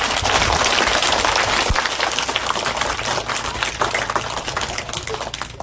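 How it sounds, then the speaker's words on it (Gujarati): A crowd at a village primary school enrolment and girls' education festival claps loudly in a dense, sustained round of applause to welcome a guest, tapering slightly toward the end. "તાળીઓના ગડગડાટથી ભાઈ વધાવી લઈશું."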